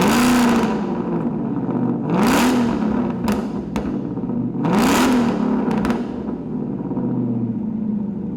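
Ford Mustang GT fitted with a Borla Extreme exhaust revved hard several times, each sharp rising blip falling back to a rumbling idle, with raspy crackles between the loud, close revs.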